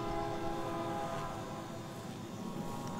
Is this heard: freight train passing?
yes